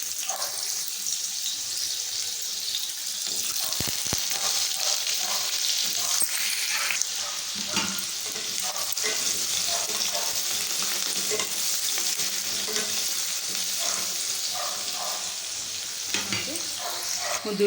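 Potatoes fry in hot mustard oil in a pan, with a steady close sizzle and occasional stirring scrapes running for the whole stretch without talk.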